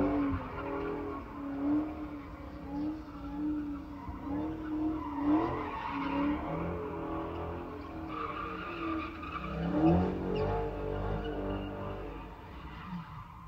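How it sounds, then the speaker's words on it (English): A car spins donuts in a parking lot, tires squealing and skidding in long wavering screeches over a revving engine, loud and continuous with no voices. "someone would come and do donuts in the parking lot"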